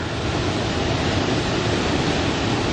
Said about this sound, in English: Firehole River Falls in a lava canyon